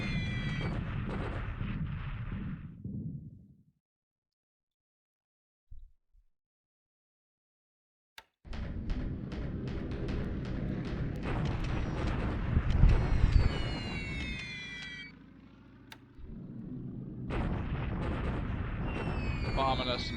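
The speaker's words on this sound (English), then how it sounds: "Bombing us some Chinese troops." Bombing of troops in a WWII strategy game set in January 1942, Japan against the Allies: loud rumbling blasts and explosive fire, with a silent gap, then sustained booming bursts that swell and fade.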